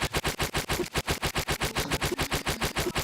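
Rapid, evenly spaced gunfire from a macro-driven fire button in the shooter game Point Blank, a steady mechanical stream of sharp shots at close range with no talking.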